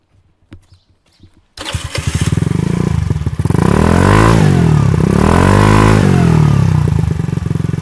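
A cheap Chinese scooter's small engine cranks briefly, then starts and settles into a loud, buzzing idle with a couple of revs; a few soft clicks come first.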